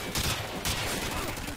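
Gunfire in an online military shooter game, two quick bursts of rapid shots, the first early and the second about half a second later, moderately loud with no talk.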